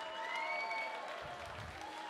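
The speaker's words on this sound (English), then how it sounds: "give him a round of applause" Crowd applause at an AFC 17 fight event, a steady, moderately distant wash of clapping sustained throughout, with faint low rumble and a tonal whine running beneath it.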